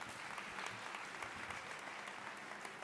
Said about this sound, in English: give Sergio a round of applause for that introduction